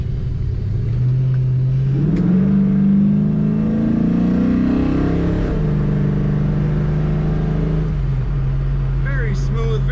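A 1967 Chevrolet Chevelle SS with an LSX 376 engine and automatic transmission accelerates, its deep engine note climbing steadily in pitch, dropping back as it shifts, then settling into a smooth cruise, heard from inside the car.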